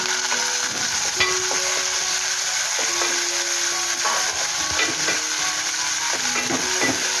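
Onion and tomato cooking in a pan for a drumstick curry, a steady low sizzle under repeated scraping and clacking from a spoon stirring against the pan, close and continuous.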